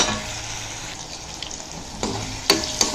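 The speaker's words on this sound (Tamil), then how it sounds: "இப்போது இந்த கத்திரிக்காய் நல்லா வதங்கட்டும் பார்க்கலாம்" Eggplant pieces sautéing in a pan for South Indian pepper kuzhambu: a steady close sizzle with a few sharp clinks of a spoon stirring against the pan near the end.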